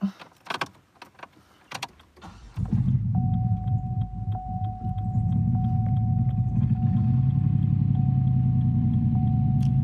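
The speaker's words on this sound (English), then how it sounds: "because my muffler is gone, and I don't know how or who took my muffler off, this is what my car sounds like." A car with its muffler missing starts up after some brief handling noises, then settles into a loud, deep, rough exhaust rumble that holds steady and grows slightly heavier, close and unmuffled.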